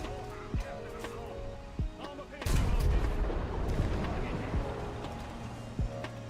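A tank's main gun fires in a video game, a heavy boom with a long rumbling tail in the middle, surrounded by sharper distant shots and engine drone; someone talks during parts of it.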